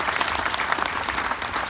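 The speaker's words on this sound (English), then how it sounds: "give yourselves a round of applause" An audience at an opening ceremony applauds, a dense, continuous burst of clapping from many hands filling the room.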